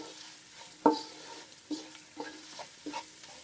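Raw prawns with salt being stirred and fried on a medium flame for Andhra-style prawn biryani, with a steady faint sizzle beneath a few sharp spatula scrapes and taps against the pan.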